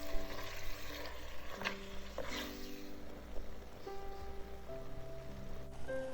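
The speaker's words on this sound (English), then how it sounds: "When the oil is hot, put the lamb in." Lamb pieces sizzling in hot oil in a pot over high heat, a steady broadband crackle with occasional louder spits and stirring, continuous throughout with faint tonal background sounds.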